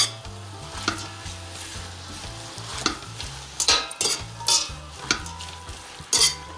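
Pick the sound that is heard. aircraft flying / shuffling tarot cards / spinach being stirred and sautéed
spinach being stirred and sautéed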